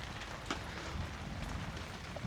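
Steady rain falls outside a house in a rural area near a mountain and rice paddies, a dense, even hiss with a few faint drop taps, fairly distant and constant, with no talk.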